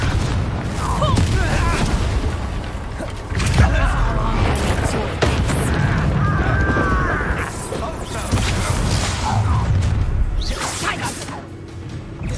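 Confringo fire spells blast during spell combat in the Hogwarts Legacy video game. Loud booms, swishing whooshes and crashing impacts follow one another in rapid bursts, with voices speaking between and over the explosions.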